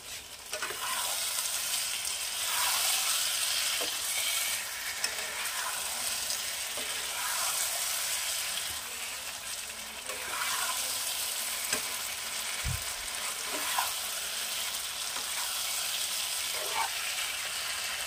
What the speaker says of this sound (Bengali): এবার আরেকটু কষিয়ে নেব। আলুগুলো কষিয়ে নিয়ে আমি ফিরে আসছি।